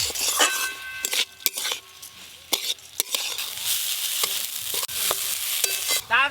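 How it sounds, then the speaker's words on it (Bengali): Gobindobhog rice is stirred in a pot with ginger paste, turmeric, chilli powder, bay leaf, salt and sugar, sharp spoon scrapes and clinks against the pot over a soft sizzle, uneven and close. "এবার সব কিছু একসঙ্গে ভালো করে মিশিয়ে নেব।"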